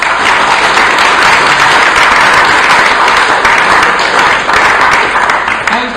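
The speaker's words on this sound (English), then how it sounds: "another quick round of applause for Chris" An audience at a humanist society talk claps loudly and steadily throughout, a dense, sustained round of applause filling the room.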